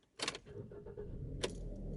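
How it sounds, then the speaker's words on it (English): A car engine is cranked with the key and catches within about two seconds. Brief sharp clicks and jangles come first, then a low rumble builds and holds, close by and fairly faint, with no speech. "As you can see, the engine has started."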